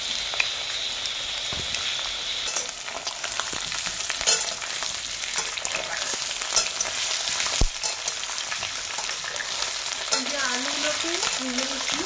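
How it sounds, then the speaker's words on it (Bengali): Potatoes fry in oil in a wok, a steady, close crackling sizzle lasting throughout, with intermittent spatula stirs and scrapes and a few brief clanks. "আলুগুলোকে ভেজে নিচ্ছি"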